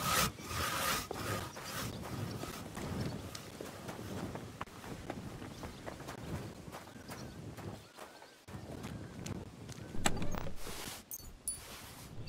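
Rhythmic rasping strokes of a blade being sharpened in a video game, a steady series of scraping passes with brief pauses, fairly close and moderately loud, with no speech.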